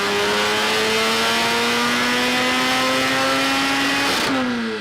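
A modified bridgeported Mazda 13B-REW rotary engine from an FD RX-7, swapped into a Miata, revs hard with a loud rising buzzy tone that climbs steadily and then drops off sharply at the end.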